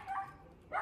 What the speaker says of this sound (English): Oh, the dogs.